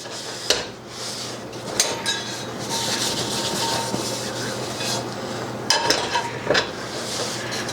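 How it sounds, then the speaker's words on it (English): A cloth rubs a cast iron pan dry, giving scraping and swishing sounds broken by a few sharp metallic knocks as the pan shifts, close by with no speech. "I wipe this as dry as I can"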